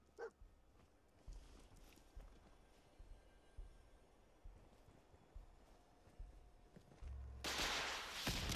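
Dogmeat, the German shepherd companion in Fallout 4, barks a few times in the game, with sharp low thumps scattered across quiet ambience before a loud, dense burst of noise at the end.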